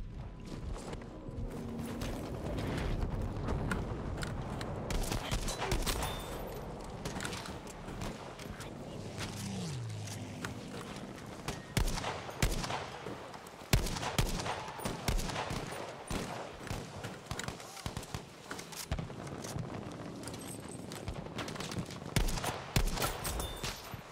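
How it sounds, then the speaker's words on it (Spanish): Rapid machine gun fire from a tank in Battlefield V, crackling in irregular bursts amid battlefield clatter and distant shots, moderately loud and dense throughout. "creo que hay una ametralladora en un tanque"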